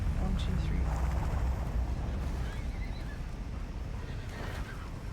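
Several horses in the survival game Icarus neigh and whinny, with hoof clip-clop and a heavy low rumble, loud and close throughout.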